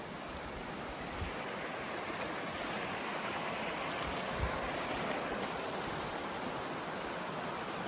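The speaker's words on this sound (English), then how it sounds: "Here is Hemlock Brook." Hemlock Brook in Morgan Hill State Forest flowing over rocks, a steady, broad rushing and burbling of water heard close and continuous, with no voices.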